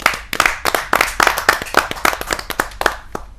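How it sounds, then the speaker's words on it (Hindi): Audience at a Hindi poetry gathering claps in a quick, uneven burst of sharp hand claps, close and fairly loud, with no talking over it. "आप जोरदार तालियों से उनका भी अभिनंदन कीजिए। वीणा उपाध्याय जी।"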